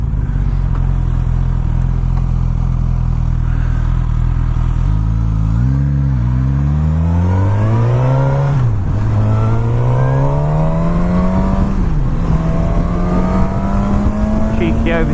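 A Suzuki GSX-S1000 fitted with a Puig screen accelerates hard and overtakes. Its engine note climbs in pitch through the gears with a couple of brief shift dips, under heavy, constant wind roar.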